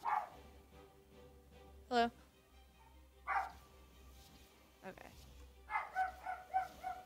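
Sharp dog barks come in scattered bursts and then a quick run of several yips, close by, while a person calls out briefly between them.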